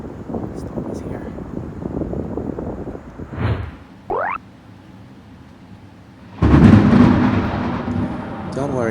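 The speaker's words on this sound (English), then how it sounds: "The thunder has arrived too." Thunder rolls in during a rainstorm: a heavy, broadband rumble surges close and loud in the last few seconds, over steady wind buffeting the microphone and a rough background of rain and wind.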